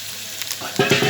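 Cut chicken pieces drop into a hot pan and start to sizzle, a steady frying hiss with stirring clatter that swells into louder bursts near the end, close and alone.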